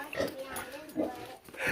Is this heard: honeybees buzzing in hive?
no